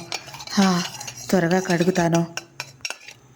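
Dishes and utensils clink and clatter as they are handled and rinsed, with a person talking over the noise.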